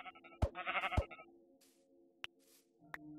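Sheep bleating in the Minecraft video game on PlayStation 3, two close wavering bleats followed by a few short clicks and game sounds, with no talking.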